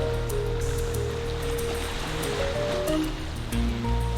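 Turbulent, rough lake water at Pictured Rocks, a constant loud rushing wash of waves and surf filling the whole stretch with a low steady roar.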